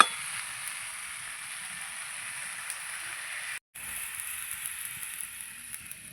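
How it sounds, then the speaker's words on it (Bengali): Water poured into a pan of sizzling spiced mixed vegetables for a tilapia curry gives a steady, fairly quiet hiss and crackle that runs alone throughout, cut by one brief silent gap midway. "এবার জল দিয়ে দিচ্ছি।"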